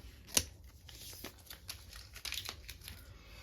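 Scissors snip through the plastic packaging on a planner, making a few quiet cuts and crinkles close by in a hushed room, with no voices.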